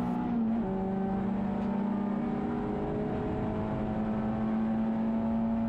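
A Peugeot race car accelerates hard onto the Bentley straight at Snetterton circuit during a hot lap, its engine note a steady, climbing drone heard from inside the car, with no talk.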